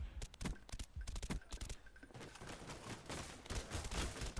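Rapid M16 rifle fire in Call of Duty Black Ops, loud dense bursts of shots crackling repeatedly across the whole stretch with barely a pause.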